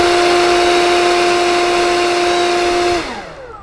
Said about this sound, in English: Then I blow air down into the spiral tube all the way down to the bottom